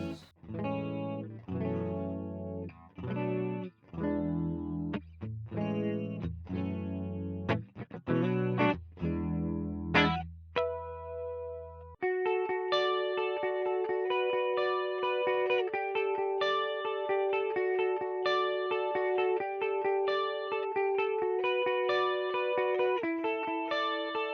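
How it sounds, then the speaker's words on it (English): Electric guitar through a chorus effect, shimmering strummed chords followed by a steady run of bright picked notes, with no voices. "That's a really nice chorus sound, actually."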